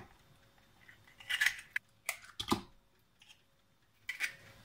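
Eggs, yogurt, water, milk and oil whisked together in a bowl for homemade dough: irregular bursts of quick clinking and scraping strokes separated by short pauses, close and fairly quiet, no talk.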